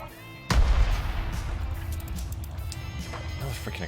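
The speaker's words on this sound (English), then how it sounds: "Another freaking explosion, come on." A loud, sudden boom in the Anno 1800 video game, a heavy explosion that bursts in after a quiet start and leaves a long rumbling, crackling tail that fades slowly, with faint game ambience underneath.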